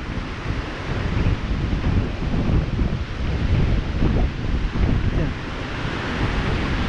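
Large waves crash and heavy wind roars during Typhoon Pipito, the gusts buffeting the microphone with a rumbling low roar that surges and eases continuously, with faint voices underneath.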